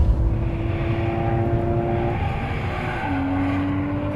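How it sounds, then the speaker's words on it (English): The flat-six engine of a 2014 Porsche Cayman S revs hard on an upshift, a loud steady drone whose pitch climbs, drops at the gear change and rises again, with no talk. "There's nothing like the sound of a Porsche flat six on an upshift."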